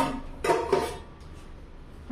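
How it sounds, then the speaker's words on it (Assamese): Kitchen dishes and utensils being washed, with two sharp clattering knocks close by, then a quiet pause and a final short clink. "কিচেনটোতো যিমান যি বাচন আছে চব ধুই মেলি থৈ লওঁ"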